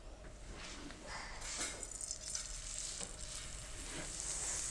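Paratha frying in oil or ghee on a hot pan, a steady close sizzle with soft crackles and occasional pops throughout, no talking.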